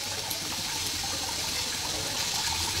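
Tap water runs steadily in a kitchen while jackfruit is being washed, a constant moderate rushing splash with no talk over it.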